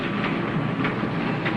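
A train standing at a station rumbles steadily with a low, continuous rolling drone and faint periodic clacks, loud and close with no voices over it.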